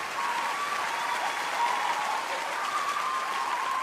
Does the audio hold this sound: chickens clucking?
no